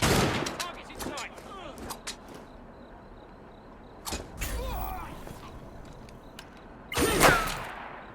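Sharp gunshots crack out in bursts at a target in Assassin's Creed Syndicate, several loud reports spaced over a few seconds with mechanical clicks and faint game voices between them.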